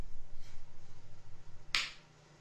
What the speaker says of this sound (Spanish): No me lo creo que está aplaudiendo con el culo.